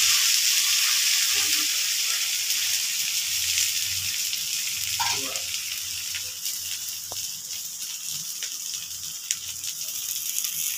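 Podi dosa topped with small onions hissing on a hot pan just after flipping, a loud broadband sizzle that eases slightly midway, with faint scrapes and clicks and no speech.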